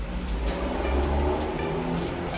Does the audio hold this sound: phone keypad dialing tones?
no